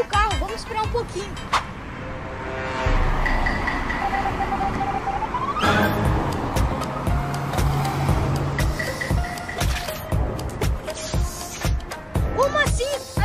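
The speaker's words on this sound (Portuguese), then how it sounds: "Ih, tá vindo o carro." A car comes along the road, its engine and tyre noise swelling steadily as it nears, with a brief rising whine partway through and children's voices talking over it.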